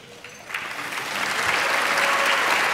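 Applause from an audience of several hundred at a downtown business event, swelling from a few scattered claps into steady, sustained clapping that fills the room.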